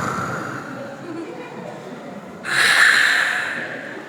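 A preacher imitates snoring with his voice, giving one loud, rasping snort-like breath that bursts in partway through and holds for about a second before fading, following quieter murmuring.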